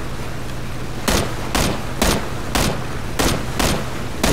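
Video game gunshots ring out as seven evenly spaced, sharp loud cracks roughly half a second apart over a steady background hiss.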